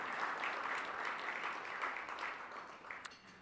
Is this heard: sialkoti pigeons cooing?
no